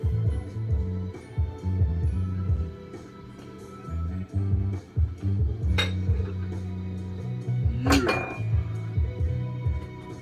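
Ceramic bowls clinking and knocking together as one is picked out of a stack in a kitchen, irregular close clatters with a couple of sharp ringing hits, no talking.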